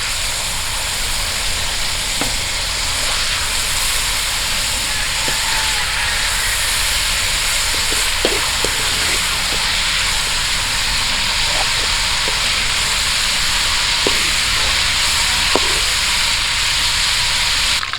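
Squid fries in a pan for an outdoor seafood paella, giving a constant loud sizzle and hiss with occasional small pops and clicks, steady and close throughout with no talk.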